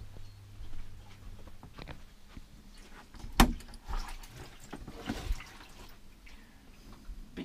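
Rain falls at a campsite outside Saltash, heard as scattered patters and drips with a sharp tap or knock partway through, fairly quiet and close.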